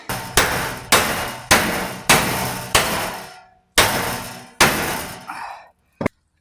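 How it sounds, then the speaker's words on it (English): A series of about eight loud hammer strikes on a metal front axle part of a Hummer H3, evenly spaced with ringing decay after each, then a final sharp tap after a short pause. "I'm going to get my hammer and try to tap that down into there to lock it in"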